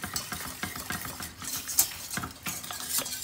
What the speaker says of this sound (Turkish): Bir su bardağı soğuk su veriyoruz. Hemen soğuk suyu karıştırıyoruz.